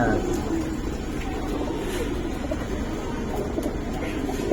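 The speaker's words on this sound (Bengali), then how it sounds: "দেখেন কবুতর যে" Giribaz pigeons of silver colouring coo softly inside a noisy indoor space, their low murmuring blending into a constant background hum.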